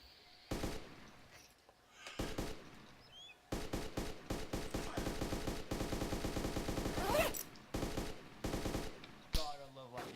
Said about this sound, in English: God, I love light machine guns